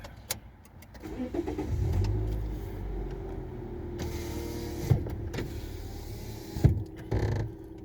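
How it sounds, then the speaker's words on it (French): A car engine cranks and starts inside the cabin on a warm day, its low idle rumble settling in with a few sharp clicks and knocks from the controls, no one talking. "Et je démarre la voiture."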